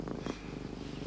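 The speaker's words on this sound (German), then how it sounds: "Schau, meine Katze, die schnurrt und der ganze Rest." A house cat purrs up close with a soft, steady rumble. The sound is faint and continuous, with no voices.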